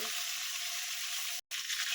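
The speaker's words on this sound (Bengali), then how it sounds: "আমি এইভাবে 3টে মাছটা ভেজে নেব।" Pomfret fish frying in a pan, a dense, loud hiss of hot oil heard close up, continuous apart from a momentary cut near the end.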